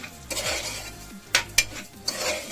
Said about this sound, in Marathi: तिला पण अशी परतून घेऊया थोडीशी ब्राऊन होईपर्यंत